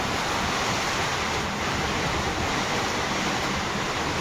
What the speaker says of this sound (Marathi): बघा पाऊस चालू झाला आहे पाटोसमध्ये